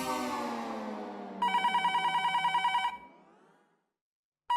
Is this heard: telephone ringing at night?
yes